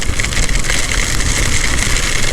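Steady motorcycle engine drone during a monsoon ride in heavy rain, with broadband rain and wind noise washing over a low engine rumble, constant and loud throughout.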